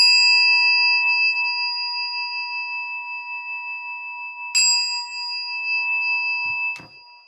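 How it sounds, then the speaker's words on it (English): A meditation bell is struck twice, each strike a clear, pure ringing tone that sustains and slowly fades, with a faint low knock near the end in a quiet room. "I have to get my bell."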